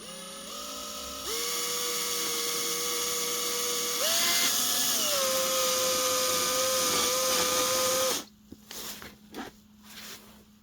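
An electric circle cutter bores a round hole, its motor whining loud and steady at close range with the pitch shifting as it bites, then stopping abruptly near the end, followed by a few faint clicks and handling noises.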